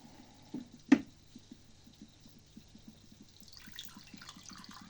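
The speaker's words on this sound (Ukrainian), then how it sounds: "Це вода відслоєна з крана." Settled tap water being poured out for an aquarium water test: a sharp click, then soft ticking, and a faint, close trickle of pouring water toward the end.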